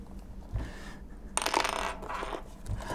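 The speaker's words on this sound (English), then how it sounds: "We have the keyboard. I knocked it on the floor." An Apple Newton keyboard for a 1997 Apple MessagePad 2000 knocked onto the floor, giving one sharp clattering impact with a brief rattle, close and fairly loud against a quiet room.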